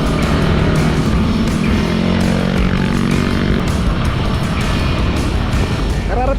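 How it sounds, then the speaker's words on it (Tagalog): A rare Vespa scooter rides along a city street in Manila, its engine a loud, steady buzzing drone that holds without pause from start to finish. "At ang ginamit nating sasakyan ngayon ay itong Vespa"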